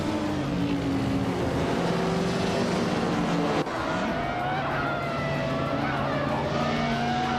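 A 1995 Porsche 911 Carrera leads a pack of racing cars off the line at Magny-Cours in a racing game, their engines a loud continuous roar that rises and shifts in pitch, with a brief tonal jolt midway.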